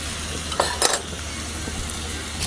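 A utensil stirs tomato sauce cooking in a pan, seasoned with salt and pepper, giving soft scraping strokes over a low, constant sizzle, with a couple of brief louder scrapes near the start.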